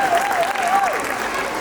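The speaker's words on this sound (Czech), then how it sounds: "Poprosím o potlesk pro další z našich nejmenších dětí." An audience at a children's dance exhibition applauds in a full, continuous burst while a voice speaks over it.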